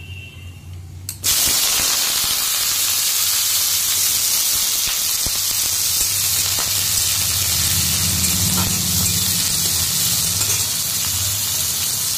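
Eggplant pieces hit a hot pan with mustard seeds and burst into a loud, steady sizzle that holds close and continuous throughout after a quiet start, with no talk.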